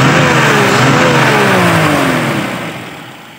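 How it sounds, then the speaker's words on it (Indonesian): A Toyota Kijang Super engine idles at low RPM after carburetor tuning, a loud, steady, close hum that drops and softens toward the end. "Mesin juga enggak mati."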